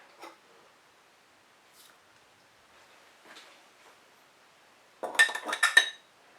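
A spoon stirs yeast with water and sugar in a glass, giving faint scattered clinks and then a quick burst of louder ringing taps against the glass near the end.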